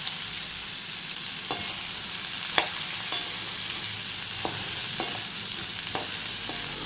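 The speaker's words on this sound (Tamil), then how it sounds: "தேவையான அளவுக்கு கல் உப்பு போட்டுக்கிறேன் நல்லா கிளறி விடுங்க" A spoon stirs mixed vegetables with rock salt in a cooking pot, soft scraping under a low steady hiss, punctuated by sharp clinks against the pot every second or so.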